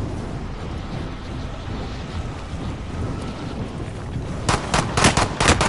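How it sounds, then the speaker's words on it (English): Call of Duty: Warzone match audio with a steady roar of wind and rumble, then several sharp bursts of gunfire near the end, rapid and close. "I'm getting shot out of the air already"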